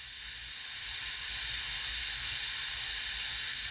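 An airbrush sprays paint onto a chartreuse shad crankbait fishing lure, adding shad dots; a steady, close hiss of air and paint runs evenly throughout with no pauses and no talking.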